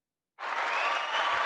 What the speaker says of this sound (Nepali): पख तिमीलाई म ताली पनि बजाइदिन्छु ल।